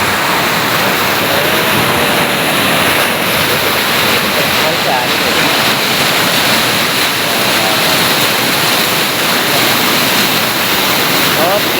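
The Marsyangdi river rushes beneath a bridge in a loud, steady roar of churning water that fills the whole clip without a break.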